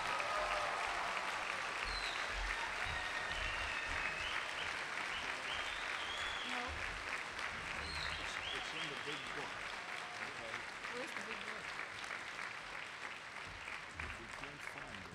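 A large commencement crowd gives sustained applause for new dental and dental hygiene graduates, a thick continuous wash of clapping in a big hall that stays loud and tapers slightly toward the end, with faint voices mixed in.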